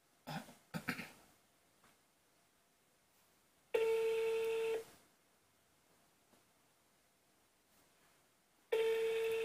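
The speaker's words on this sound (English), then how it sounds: "He's ringing now again." Two bursts of a steady outgoing phone ringback tone, each about a second long and spaced several seconds apart, heard on a call to a number that is not picking up, with a cough or throat clearing at the start.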